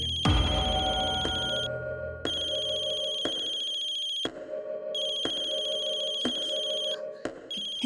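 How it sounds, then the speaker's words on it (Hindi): An electronic phone ringtone rings loudly and repeatedly in pulsing phrases, with brief silent gaps between rings. "किसका फोन था?"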